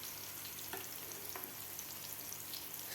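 Chicken fries in a pan in very little oil, a soft steady sizzle with faint crackles and the occasional light scrape or tap, close but quiet.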